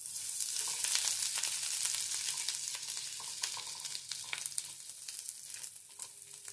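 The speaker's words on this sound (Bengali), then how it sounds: "এবার আদা কুচিকেও নেড়ে চেড়ে হালকা করে ভেজে নেব" Chopped garlic and ginger fry in a pan while being stirred, a faint steady sizzle broken by light scraping ticks from the spoon.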